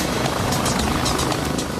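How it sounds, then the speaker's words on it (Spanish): Loud, steady rotor thumping and engine roar of several rescue helicopters, close and continuous throughout. "Los helicópteros se agolpaban peligrosamente en los límites."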